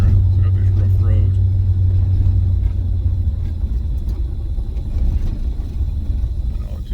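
A 1991 Range Rover Classic on a rough gravel road gives off a steady, heavy low rumble with constant road vibration, heard close from inside the cabin throughout.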